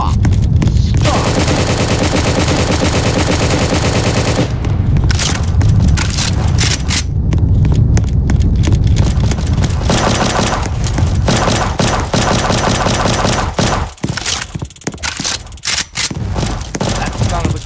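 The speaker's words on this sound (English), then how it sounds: "That sound of a gun went inside." Gunfire in the Roblox game Prison Life, heard as loud, dense bursts of rapid automatic shots and booms that continue almost without pause, with mechanical clatter mixed in as the firing thins out toward the end.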